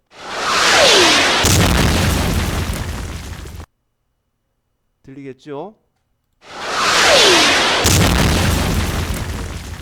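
Two loud, booming explosions with a rumbling tail, one at the start and one at the end, separated by a brief spoken question in a quiet gap.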